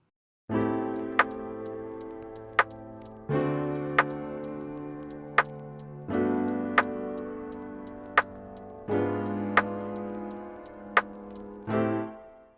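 A programmed beat of crisp hi-hat ticks with a lopsided, heavily swung rhythm, layered over repeating sustained synth chords.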